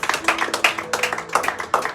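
A church congregation claps hands together in a rhythmic run of sharp claps during a Spanish-language worship service, fairly close and steady with no talk over it.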